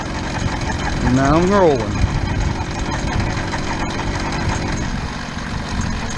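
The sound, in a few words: gas-powered bicycle engine running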